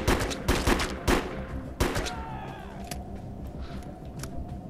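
Gunfire in the video game Defiance: several loud, sharp shots in quick bursts, followed by a softer mechanical whine and dull background rumble.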